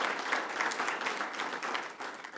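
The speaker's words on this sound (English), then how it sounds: "Give her a round of applause." An audience applauds in a round for Barbara, the wife being recognised at a Chicago 40th Ward alderman's event; steady, dense clapping from a moderate crowd runs for the whole stretch at fairly even loudness.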